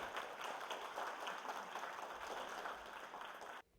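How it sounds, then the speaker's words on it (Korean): An audience at an education information session claps to welcome a mentor speaker, steady dense applause from a seated crowd that holds even and then cuts off abruptly near the end. "맨 처음에 발표할 이동호 멘토분을 큰 박수로 모시도록"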